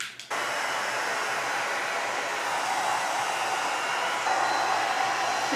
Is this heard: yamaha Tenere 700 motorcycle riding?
no